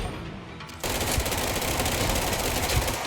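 Rapid automatic gunfire from the player's weapon in the video game Control, a dense, loud burst that cuts in suddenly after a quieter moment and rattles on steadily to the end.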